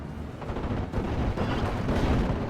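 Repeated 4.2 inch mortar fire during a Steel Division 44 World War II battle, heavy booming blasts and rumbling detonations overlapping continuously at a steady loud level with no talk.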